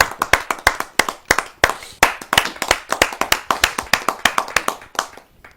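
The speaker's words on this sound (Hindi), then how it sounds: "आइए जोरदार तालियां सुनकर स्वागत" A few people clap to welcome a poet at a comic poetry gathering, sharp close hand claps in an irregular, fairly quick rhythm, loud and distinct with no talking over them.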